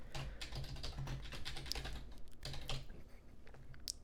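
Steady, quick clicking of a computer keyboard being typed on, close and fairly quiet, continuing without a break and with no voices.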